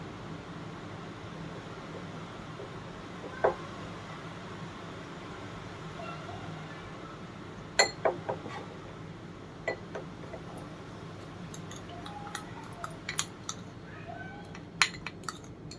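Instant hair dye is mixed with coconut oil in a small bowl, with faint scattered clinks and taps of a spoon against the bowl over quiet background hiss and no voice.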